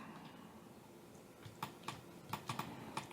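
Keys on a computer keyboard are tapped in a short, uneven burst of distinct clicks, close and moderately loud, following a quiet stretch of room noise.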